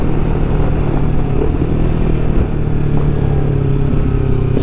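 Kawasaki Versys 300X motorcycle on dirt tires riding off-road, a loud steady engine drone with rough clatter and wind buffeting close to the rider, continuous throughout with no speech.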